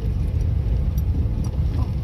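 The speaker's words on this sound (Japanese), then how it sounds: "後ろから車来てる、ちょっと追い越してもらおう。" A car comes up from behind on a road by the Obama fishing harbour, a steady low engine and tyre rumble that holds close and fairly loud through the whole moment.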